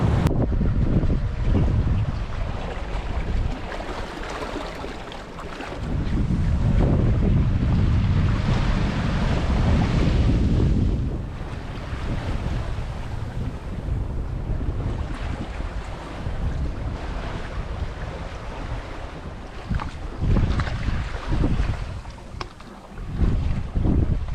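Strong wind roars over the microphone as waves wash and slap against a heeled sailing boat in open water at sea, the gusts surging loud and steady throughout with no talking.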